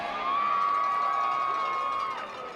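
Spectators at a high school football game, North Cobb at Marietta, cheer and whoop for the senior cheer squad, with a sustained shrill shout riding over a steady roar of crowd noise that eases slightly at the end.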